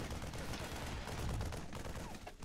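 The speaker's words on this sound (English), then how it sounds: "At least the marines are shooting here" Marines open fire in the real-time strategy game StarCraft, a dense, continuous rattle of rapid gunfire layered with battle noise, loud and unbroken throughout.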